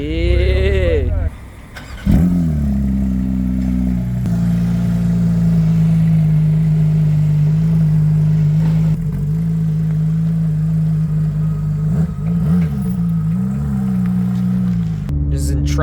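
A Porsche 911 GT3 in track mode fires up loudly, then settles into a steady, close, throaty idle. Brief revs rise and fall near the end.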